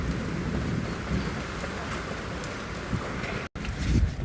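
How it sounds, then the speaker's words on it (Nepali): A heavy downpour drums steadily with thunder rumbling beneath it during a storm. The roar stays constant and close, breaking off briefly for a moment near the end. "पुरै पानी पर्यो"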